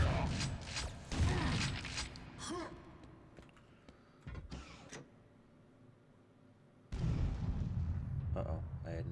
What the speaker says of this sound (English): Uh-oh, I had an explosion.